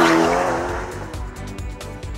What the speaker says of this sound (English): That V8 engine is at the heart of all the excitement.